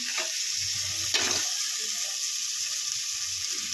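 Sambar ingredients fry in a pan with a constant dense sizzle, one brief louder scrape of stirring near the start and low rumbling underneath, no talking.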